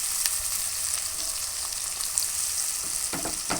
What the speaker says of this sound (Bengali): এবার আবার ভালো করে কষিয়ে নেব।